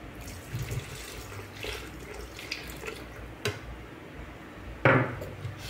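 Milk pours into a cake batter bowl in a kitchen, a soft liquid trickle with clinks of dishes and utensils, ending in a sharp clatter.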